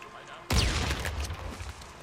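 Pipe bomb exploding in Days Gone, a sudden loud blast breaking out of near quiet, followed by a rumbling, crackling tail that slowly fades, with voices over it.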